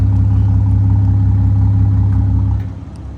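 A tuned M-Sport BMW 540i with stock turbo idles up close, its exhaust giving a steady, loud low rumble that holds evenly and then drops in level near the end.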